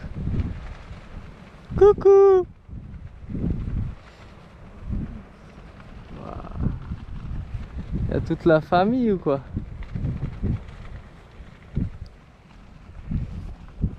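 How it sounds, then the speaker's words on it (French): Wind gusting across the Sahara desert at a camp pitched for the night, rumbling and buffeting against the microphone in uneven bursts, while several people talk and call out over it. "Bon, il y a un peu de vent."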